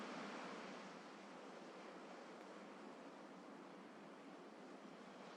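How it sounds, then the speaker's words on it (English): Steady ocean surf washes continuously at moderate level, a broad wash of breaking waves with a slight swell at the start, with no voices over it. "you might also notice the sound of the ocean, still present, still in motion"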